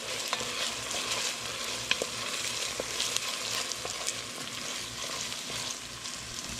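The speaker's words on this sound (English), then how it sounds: "we'll dice the onion and then put it in a pot, start cooking it there with some oil" Diced onions fry in oil in a pot with a steady, loud sizzle and occasional stirring scrapes, and no one speaks over it.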